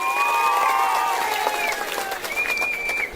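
Audience at a public meeting applauding, a dense patter of clapping and crowd noise with a voice and whistle-like tones riding over it.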